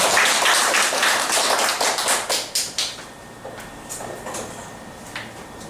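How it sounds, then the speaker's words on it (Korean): Applause from a workshop audience welcoming a former National Assembly member as he comes up to lecture: dense clapping that thins to a few scattered claps and then fades, with no talking. "김정태 우리 의원님께 큰 박수를 쳐드리면서 좋은 강의 부탁드립니다"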